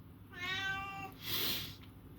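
An old female cat, about 17 years old, gives one drawn-out meow indoors, close and clear. A short breathy exhale or hiss follows it.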